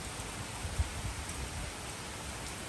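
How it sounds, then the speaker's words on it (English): Gentle rain shower with light drips from the edge of a passing typhoon, a steady soft hiss of rainfall with one brief louder drop, quiet and alone. "Rain shower number 4. This is a gentle one."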